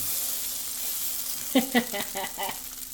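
A vegan breakfast patty hits hot oil in a skillet, giving a steady background sizzle with a few brief louder crackles as it lands, close and alone with no talking.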